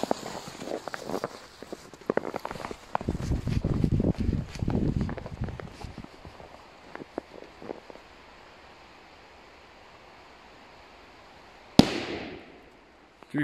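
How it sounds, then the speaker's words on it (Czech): Footsteps crunch and shuffle through snow, followed by quiet waiting, then a Funke Titan Blitz 5 firecracker goes off in the snow with one sharp, loud bang that fades quickly. "petarda Titan Blitz 5 od mojí oblíbené značky Funke"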